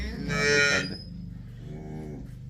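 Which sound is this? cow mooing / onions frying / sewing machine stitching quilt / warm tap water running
cow mooing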